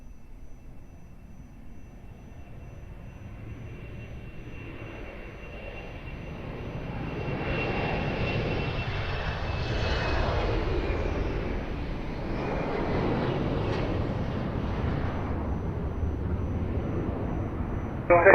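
An airliner taking off at Lisbon Airport, a low rumbling jet roar that builds gradually from a distant hum to a loud sustained wash, with a faint whining tone fading across it and no speech audible.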